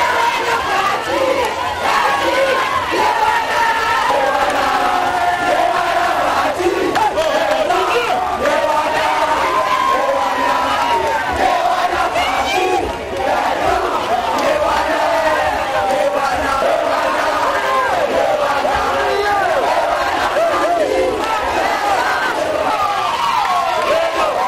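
A large jubilant crowd in the Democratic Republic of Congo chants and sings in welcome of Félix-Antoine Tshisekedi, a dense, continuous roar of many voices with shouts rising out of it, loud and sustained throughout.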